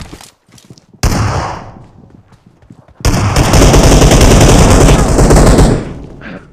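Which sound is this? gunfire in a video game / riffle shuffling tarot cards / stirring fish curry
gunfire in a video game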